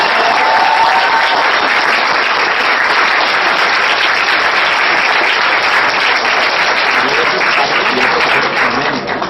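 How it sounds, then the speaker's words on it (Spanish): Dense, sustained applause from a large conference audience, loud and steady throughout with no break and no voices rising above it. "Así que vamos a dar un aplauso de..."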